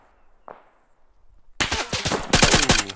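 Gunfire in the video game ArmA 3: after a quiet start with one faint thud, loud rapid automatic bursts erupt and continue to the end, dense and close.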